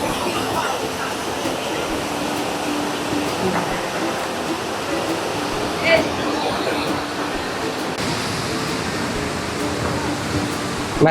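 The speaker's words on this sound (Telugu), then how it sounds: "వాటర్ ఫాల్ చూపిస్తాను చూడండి" A waterfall at an open, park-like tourist spot by an AP Tourism restaurant along a forest road between Srisailam and Nagarjuna Sagar gives a steady, broadband rush of falling water that continues without a break, with faint voices now and then.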